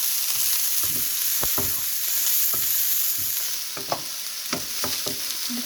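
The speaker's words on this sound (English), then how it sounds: "And we stir it again." Pasta sauce frying in a pan while being stirred, a continuous sizzle broken by repeated scraping strokes of the spoon at an uneven rhythm, close by, with no speech.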